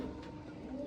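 Andhra pigeons give a brief, low, close coo that stays steady for under a second.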